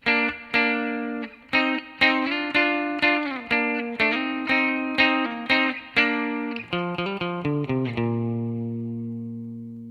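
Electric guitar picks the intro lick, a quick string of bright repeated notes that slows into a final chord left to ring and fade, loud and close with no talking.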